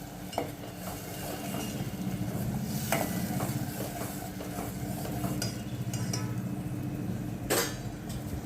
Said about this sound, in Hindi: ये मसाले को मैं ऑयल के साथ अच्छी तरह से मिक्स करती हूँ। थोड़ा 2 मिनट के लिए सौते करूँगी, भूनूंगी।